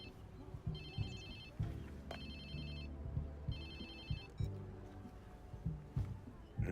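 An electronic telephone ringtone in a video game sounds in repeated trilling bursts over a busy background of game sounds and thumps, with people talking at moderate loudness throughout.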